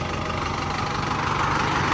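A tractor engine running steadily on a road, a continuous broadband rumble and drone that stays even and fairly close throughout, with no talking.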